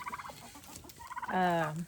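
Farm turkeys gobbling: a quick run of rapid gobbles, a short pause, then a louder, longer gobbling call close by, heard alone.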